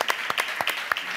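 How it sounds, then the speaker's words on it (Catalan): A short burst of audience applause from a live show, with individual claps quick and close, forming a brief patter of hand claps. "Un aplaudiment"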